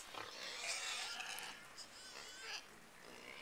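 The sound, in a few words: pigs oinking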